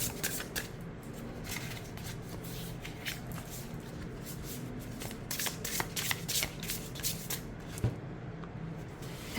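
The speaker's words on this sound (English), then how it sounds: "For side shuffling, I like how it side shuffles. It doesn't clump. Doesn't stick." Tarot cards being side shuffled repeatedly in quick riffling bursts, close and crisp, with soft rustling between them and no talking.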